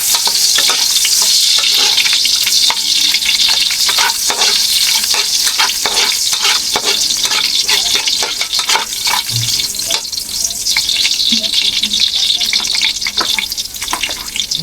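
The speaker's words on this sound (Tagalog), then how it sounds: "pag ako ay nagigisa mga katuba, inuuna ko yung luya" Ginger sizzling and frying in a pan, with a steady bright hiss running throughout and frequent scraping stir strokes close by, no talking.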